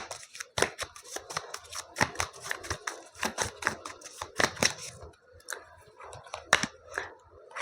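Tarot cards are shuffled and drawn by hand in a rapid, uneven run of crisp close flicks and snaps, with short pauses between bursts, quiet overall and no one talking.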